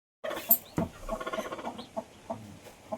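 Chickens, some of them brooding hens, cluck and squawk nearby in a quick, busy chatter, several birds calling over one another.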